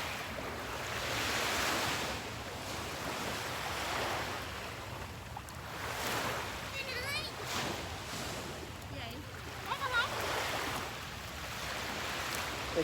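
Ocean waves wash in at the water's edge, a steady broad surf roar with surges swelling and receding under wind noise, while faint voices pass nearby.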